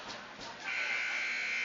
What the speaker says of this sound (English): Right as the final buzzer goes